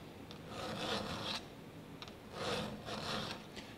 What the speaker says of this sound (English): we're gonna go ahead and file the gullet first